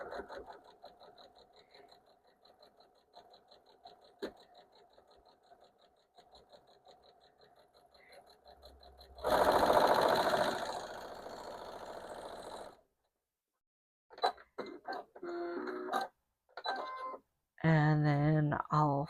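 A sewing machine stitches a quilt panel along a quarter-inch line, a steady mechanical whir running close up, then pausing while a person talks over the quieter gaps.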